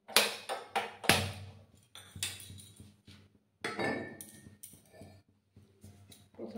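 A metal pan set down on a gas stove before frying small mixed fish gives a few sharp clinks and knocks, scattered taps and clatters close by, with quiet gaps between them.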